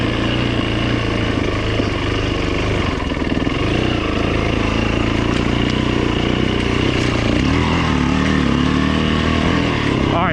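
A 2008 Yamaha WR450F dirt bike engine runs continuously on a trail, a loud, steady four-stroke drone with some revving and no speech heard.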